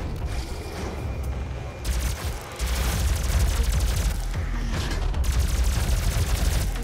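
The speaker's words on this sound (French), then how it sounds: "Fusil à plasma" Rapid plasma rifle fire from the Doom video game, a dense, sustained stream of loud energy shots with booming low-end impacts, nearly continuous across the stretch with a brief dip partway through.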